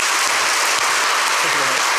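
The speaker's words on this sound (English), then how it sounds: "please join me in a round of applause" Sustained audience applause fills a lecture hall after a talk on the European Space Agency's Rosetta comet mission, a dense, even wash of clapping with a brief low voice near the end.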